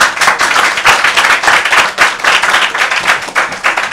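Audience applause fills a press gathering ahead of a Tanzanian general election: dense, continuous clapping from many hands, loud and close, swelling and dipping slightly without a break.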